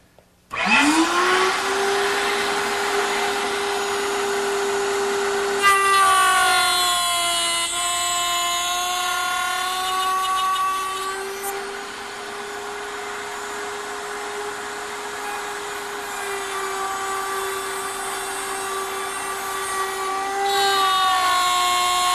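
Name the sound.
router cutting wood at router table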